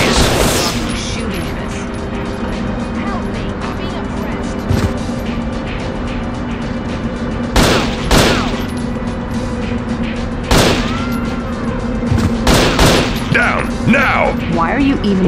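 Gunfire and explosive booms from the video game Judge Dredd: Dredd vs. Death come in loud, scattered bursts over a constant background drone, with game voices present.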